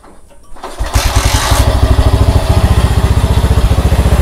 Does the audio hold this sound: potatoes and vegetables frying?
no